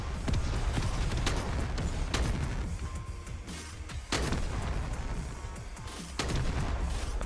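An artillery strike in the mech game Mech Havoc: a continuous barrage of booming impacts and gunfire, with sharp blasts at irregular intervals.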